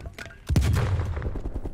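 A single close AK rifle shot in Black Ops Cold War, a loud booming crack with a rumbling tail, after faint game noise.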